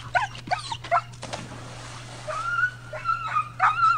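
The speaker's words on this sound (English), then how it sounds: "This dog thought its owner was in trouble." A dog near a water slide gives a few sharp yips and barks, then breaks into a run of high, anxious whimpers, close by over a steady background hum.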